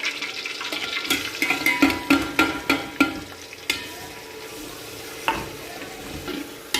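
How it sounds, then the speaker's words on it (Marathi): Onion and bay leaf frying in hot oil in a pan for chicken pulao, giving a steady sizzle broken by a run of sharp stirring clatters and scrapes, with a few more later. "त्यामध्ये फक्त तमालपत्री आणि आता कांदा घालणार।"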